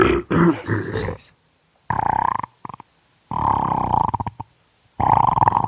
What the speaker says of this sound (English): The burping is real.